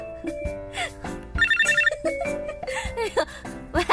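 A mobile phone ringtone plays a bright melodic ring pattern of short tonal notes that repeats through the scene, with people talking over it.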